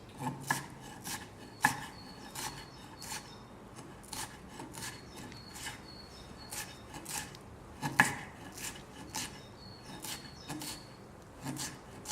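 A knife chopping food into fine brunoise cubes on a board, with quiet, irregular clusters of crisp taps and scraping strokes, close but soft, no voices.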